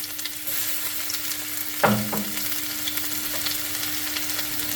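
Ginger and garlic drop into hot oil with a sudden sizzle burst, then settle into a steady frying crackle with a faint stir, close and alone without talk.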